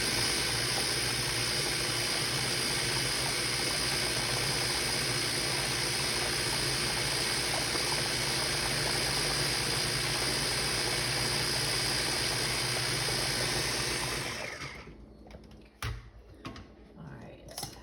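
A blender grinding homemade ketchup with ground raisins, a loud steady motor whir that runs for about fourteen seconds, then cuts off into quiet handling sounds.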